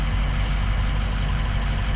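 A Ford F-550 truck's engine idles at a steady, dense rumble, close and continuous with no change in pace or pitch.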